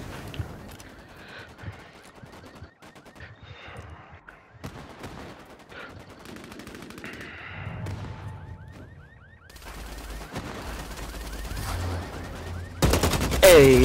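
AK rifle gunfire in the game Vampire: The Masquerade, scattered shots and short bursts among game effects, growing louder and denser toward the end, with no clear talking.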